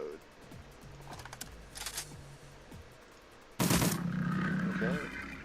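Shotgun blast from a turn-based shooter game, Shadowrun Returns, a sudden loud boom near the end after quieter clicks and game effects, with speech likely present.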